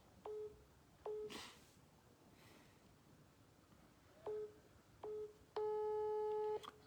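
Telephone tones sound while a call is being redialed: several short separate beeps, then a longer sustained tone, close and clear over a faint background hiss, with no talking.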